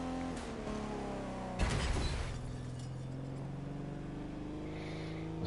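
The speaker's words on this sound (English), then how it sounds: "It's a really small engine. It's an i3, an inline 3 engine, but it has 3 electric motors" Inline-three hybrid Grand Tourer in The Crew 2, with three electric motors and 1700 horsepower, hums with a steady layered engine drone, broken by a loud crash or impact burst early on before the engine note settles again.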